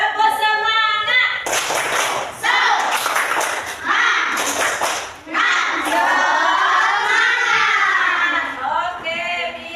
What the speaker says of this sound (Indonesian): Sekali lagi yuk, tepuk semangat.